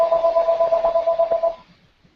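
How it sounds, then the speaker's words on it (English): A mobile phone rings during an online call, a steady electronic tone pulsing in a rapid repeating pattern for about a second and a half before cutting off, leaving near silence with a faint thump at the end. "I think that's my phone."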